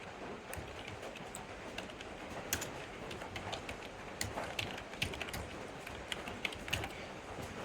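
Quiet, steady typing on a computer keyboard, a close run of soft rapid key clicks with occasional firmer taps over a faint background hiss, no voices.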